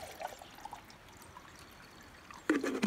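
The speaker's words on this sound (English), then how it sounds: "So we'll go ahead and put 16 ounces of water in our cup." Water is poured into a Snow Peak titanium camping cup, a faint trickle early on, then a louder splashing pour near the end, with no voices.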